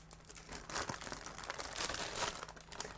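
Crinkling and tearing of a sealed plastic bag holding plastic frames from a Miniart 1/35 Soviet railway wagon Teplushka model kit, a steady close rustle with louder crackling bursts and no talking.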